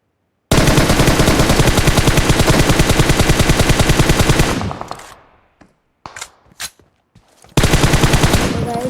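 Rapid automatic gunfire from a first-person shooter custom match rattles loud and close in a long sustained burst, then a few scattered shots, then another burst.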